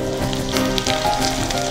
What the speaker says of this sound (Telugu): ఆనియన్స్ మగ్గటానికి మనకి ఒక 2 to 5 minutes పడుతుందండి